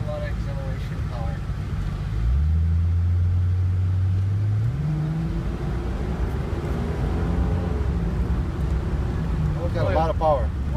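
A 1988 Toyota Supra Turbo pulls hard under acceleration, its engine note climbing in steady steps as the turbo comes on, loud and close throughout, with a person talking briefly near the end.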